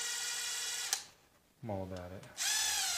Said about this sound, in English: I'm getting a power drill